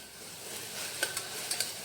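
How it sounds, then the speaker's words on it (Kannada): Mint and coriander leaves frying in oil for a bachelor-style egg pulao, a short, faint hiss of sizzling with a few light crackles and spatula taps toward the end. "ಇದು ಕೂಡ ಅಷ್ಟೇ ಆಯಿಲಲ್ಲಿ ಈಗ ಫ್ರೈ ಆಗಬೇಕು"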